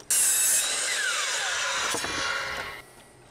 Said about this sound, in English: We'll cut 12 boards in half and then we'll start from there.